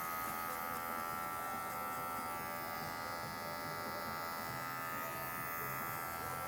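An electric hair clipper with a 1.75 guard runs while cutting a mid fade with a short fringe, giving a steady, close, continuous buzz that holds evenly throughout.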